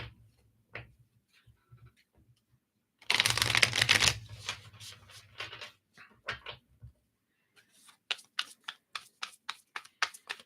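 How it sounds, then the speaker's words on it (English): Tarot cards shuffled during a live reading: a dense riffling burst mid-clip, then a run of crisp, evenly spaced card snaps and taps near the end, close and fairly quiet. "Okay, they want me to shuffle here."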